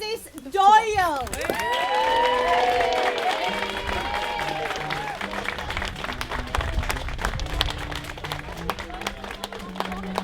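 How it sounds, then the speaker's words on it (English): Wedding guests clap and cheer for a newly married couple at a reception, with sustained applause and whoops mixed with music and a voice talking over the crowd. "can we have a huge round of applause"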